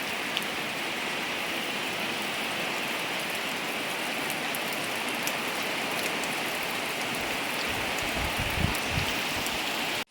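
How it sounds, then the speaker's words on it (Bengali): Heavy rain pours down steadily and loudly outdoors where water has pooled and flooded the ground, a dense, continuous hiss with no voices. "বৃষ্টি বৃষ্টি"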